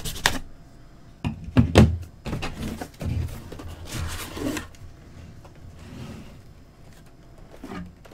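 A cardboard Loot Crate box with a Guardians theme being opened up close: irregular rustles, tears and knocking handling noises, loud at first and then softer, with no voices.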